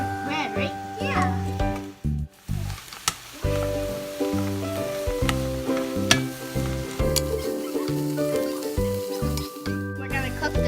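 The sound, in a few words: onions frying for Japanese curry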